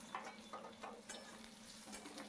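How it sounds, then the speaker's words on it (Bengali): Chopped onions frying in oil in a pan for a Bengali kachki fish dish, a steady broadband sizzle with soft periodic scrapes of a spoon stirring, moderately quiet and without talk. "এবার এই পেঁয়াজটাকে ভালো করে নাড়িয়ে চাড়িয়ে ভেজে নিতে হবে।"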